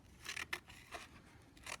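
Scissors snip through a paper pumpkin mouth in a few quick, quiet cuts with short scraping pauses between them, no talking.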